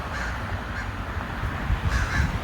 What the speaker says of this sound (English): We heard the crows